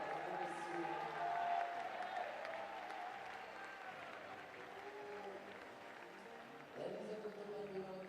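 Audience applause at para climbing finals in Laval, a steady, moderately loud clapping from a crowd that swells briefly near the end, with faint voices mixed underneath.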